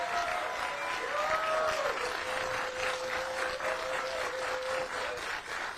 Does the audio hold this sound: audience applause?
yes